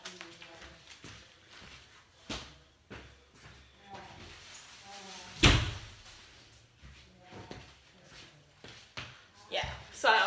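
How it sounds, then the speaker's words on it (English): A household door shuts with one loud, sharp slam in the middle of the clip, while a person talks nearby with scattered light handling knocks before and after. "let me close the door."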